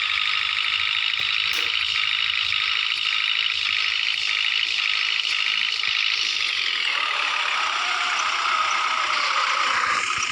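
A JCB 3DX backhoe loader idles with a steady, loud, continuous engine drone and a faint rattling hum. The tone shifts slightly partway through, and no one speaks.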